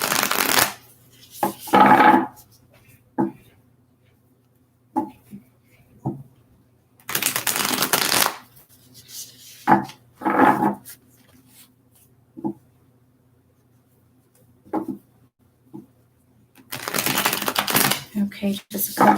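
A deck of cards riffled in several crisp bursts, each a second or two long, separated by quiet pauses and small handling taps.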